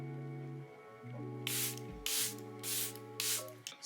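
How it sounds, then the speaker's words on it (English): Four quick bursts of makeup setting spray misting close by, separated by short pauses, over soft steady background music. "Spraying your setting spray or like a mist in between each step"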